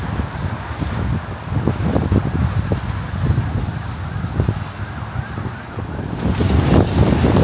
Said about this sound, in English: You can see how the wind is definitely picking up.